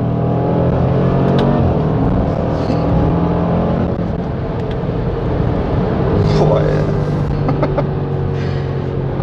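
A 2019 Range Rover Sport SVR engine rumbles and revs with a loud, steady tone, and a voice talks over the sound throughout.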